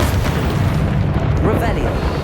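Bombarda spell explosion in Hogwarts Legacy, a deep booming blast with a rolling low rumble sustained throughout, a voice briefly heard over it.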